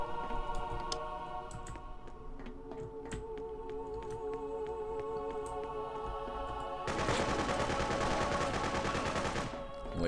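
AK rifle gunfire in the video game Freedom Fighters plays as a dense continuous burst in the last few seconds, loud over steady game background sound and scattered smaller shots.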